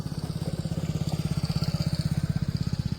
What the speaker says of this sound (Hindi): और अभी बाइक वाले हमारे पास से गए